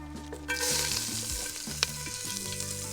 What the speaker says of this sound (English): Get that onion in.